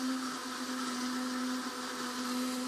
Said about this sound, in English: Now you hear the machine there changing different tone.